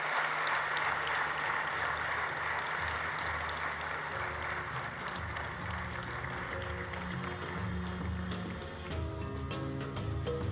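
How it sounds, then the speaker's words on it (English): Audience applause at the opening ceremony of the Nuclear Energy Innovation Summit in Kigali, a sustained, fairly even clapping wash from a large hall, with some tonal background sound running underneath toward the end. "Let's give that a big round of applause."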